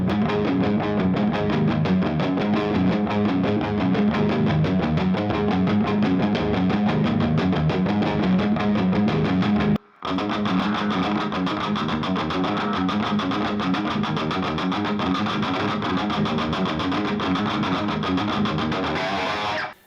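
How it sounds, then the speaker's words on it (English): Electric guitar playing a main riff through plain distortion with no wah-wah pedal, dense and loud throughout, with a brief dropout to silence around the midpoint before the riff resumes. "I'll first play you the main riff without the effect, just with some distortion"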